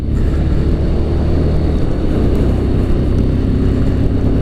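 A 2017 Suzuki TU250X motorcycle engine runs while being ridden and short-shifted, with a steady, loud low drone mixed with wind rush and no clear shift breaks.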